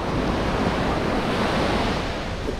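Ocean surf at Boa Viagem beach in Recife as the tide rises, a steady close wash of breaking waves with constant broadband rush and some wind noise, no voices.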